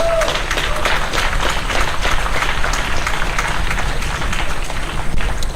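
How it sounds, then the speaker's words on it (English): Conference attendees give a big round of applause for newly named campus chapter leaders, a loud dense roar of clapping mixed with crowd noise and low rumble, steady throughout. "Big round of applause."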